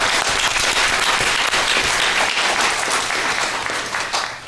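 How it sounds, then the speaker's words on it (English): Conference audience applauding for a family representative at a gerontology lecture series, a dense, steady wash of many hands clapping throughout, loud and sustained before easing slightly at the end. "Could we give a round of applause?"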